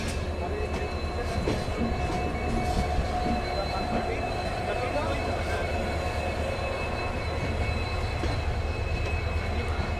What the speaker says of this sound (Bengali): আমাদের ট্রেনটা ধানবাদ জংশন স্টেশন থেকে ছেড়ে দিল